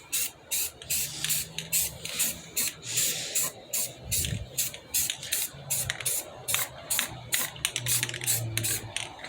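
A spray paint can hisses out a light coat onto a wheel rim in short repeated bursts, each spray a few tenths of a second with brief gaps between, close and fairly loud.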